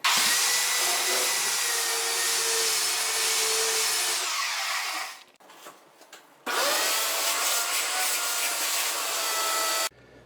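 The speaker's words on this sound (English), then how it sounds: "and then we'll vacuum that up really well." Vacuum cleaner running over a roughed-up glued-down vinyl floor, a loud steady whine that cuts out briefly with scraping and bumps, then starts up again and runs steadily until stopping.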